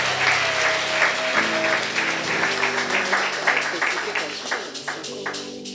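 A church congregation claps and cheers in a steady roar of applause that fills the room, with voices and shouts of praise mixed in.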